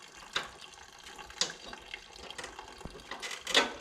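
Light trickling and splashing of fuel draining from a mini bike carburetor during a carburetor swap, with a few brief louder spurts over a faint, steady dribble.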